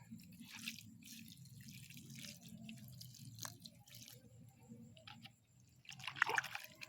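Water is poured onto a sweet potato planted in a reused plastic gallon jug, a soft trickle and dripping close by, with a brief louder splash near the end.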